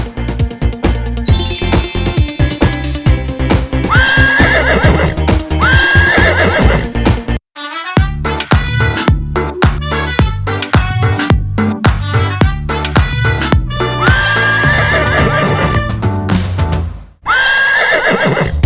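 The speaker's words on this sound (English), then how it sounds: "The horse goes, neigh! Neigh!" Horse whinnies ring out repeatedly over busy, continuous children's music with clopping hoofbeats and chiming tones, loud throughout with a brief drop-out near the end.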